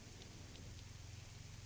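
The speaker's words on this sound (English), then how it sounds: "As the rain pours down" Steady rain pouring down in a DayZ match on console, a constant even hiss of drops with a low rumbling bed and no break across the whole stretch.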